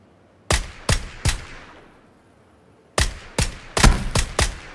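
Uzi fire in PUBG, three sharp close shots followed by a pause, then a faster string of five or six shots, loud and punchy against near silence.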